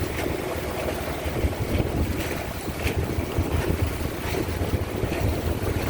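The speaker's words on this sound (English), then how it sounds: "We've got some churned up water." Choppy, churned-up water around a cruising sailboat near Pender and Saturna Island, a constant rushing wash of waves with heavy wind buffeting the microphone throughout.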